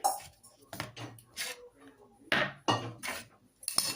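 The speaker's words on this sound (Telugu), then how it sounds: "దీనిలో అయితే మనం నీట్గా మిక్స్ చేసుకోవాలి." Fried potato chips tossed with salt and chili powder in a bowl, giving several bursts of crisp rustling and light clinking at irregular intervals, fairly close, with quiet gaps between the stirs.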